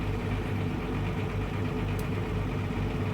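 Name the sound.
submarine engine room running in video game Wolfpack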